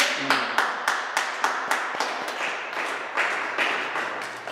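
A church congregation claps for Jesus in strong, evenly spaced loud claps, roughly two per second, close and sharp, over a faint sustained musical tone with no speech.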